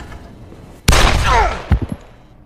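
A single loud gunshot from a film scene cracks out close, followed by a brief reverberating tail and a few quick trailing thumps, with no voices.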